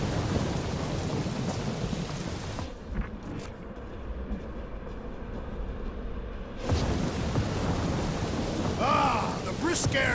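A thunderstorm with rain in the video game Guardians of the Galaxy brings steady rain and rumbling thunder, with a sudden quieter stretch in the middle before the downpour returns at full strength.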